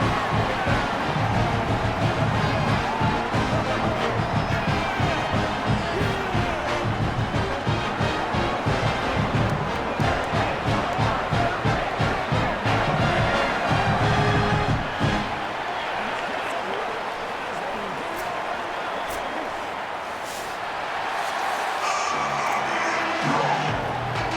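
Stadium crowd roaring at the opening kickoff of a Kansas vs Maryland college football game, a loud sustained wash of cheering for about fifteen seconds before dropping to a lower steady murmur.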